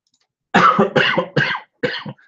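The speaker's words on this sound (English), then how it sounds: "I'm coughing" Four harsh coughs in close succession from a lecturer, loud and near, with brief silent gaps between them.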